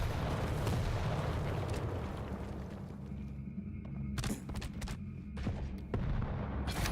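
Acid spit and rockets explode together in a 1v1 Quake Champions match, with a heavy rumbling blast fading out and then sharp, loud explosive hits and bangs near the end.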